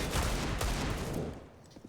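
Counter-Strike gunfire in a professional ESL Pro League match, rounds punching through metal: a loud, rapid, clattering volley of shots that fades out near the end.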